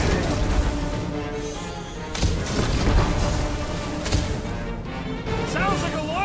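Explosions and gunfire in the Guardians of the Galaxy video game, with dense crashing booms and impacts layered over busy action music and effects, continuous and loud, while characters talk over the combat.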